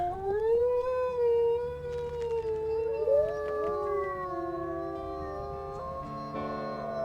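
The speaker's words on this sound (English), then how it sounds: "Let's go ahead and do a double howl." Wolves in the WolfQuest video game give a loud, sustained double howl, two voices with long rising and falling tones overlapping, heard alone without talk.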